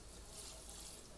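A little water pours onto sautéed vegetables in a cooking pot, a steady soft splashing trickle, quiet and alone.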